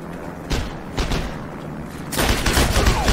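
Rapid gunfire in the World War II shooter Heroes & Generals, with sustained automatic bursts and overlapping shots, loud and continuous, building into a heavier barrage near the end.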